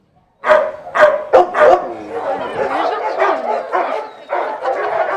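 Several dogs bark in bursts at an animal shelter, loud and close at first, then a busier chorus of barks and whimpers continues with voices talking underneath.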